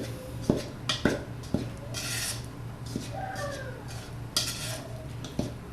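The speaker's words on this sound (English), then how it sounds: "So you'll just kind of cut your knife through until the oil is absorbed into the flour" A knife cuts oil into flour in a bowl for pie crust, giving a series of soft, irregular scraping taps and light clinks against the bowl, close and quiet with no speech.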